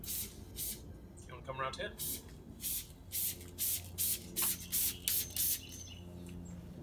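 Several short, evenly spaced sprays of wheel cleaner hiss onto a car wheel close by in a shaded spot, preceded by a brief spoken question.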